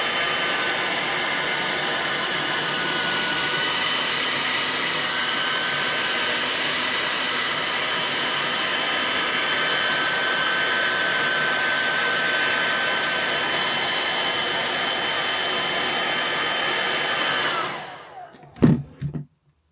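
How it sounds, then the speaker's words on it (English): A hair dryer blows steadily and loudly for a long stretch, then switches off, leaving a few brief clunks and handling noises. "pull it through really slowly with the hairdryer on it"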